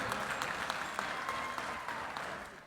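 A crowd at a Maharashtra political campaign rally bursts into steady applause, dense clapping held at a constant level for the whole stretch with a few sharper claps standing out.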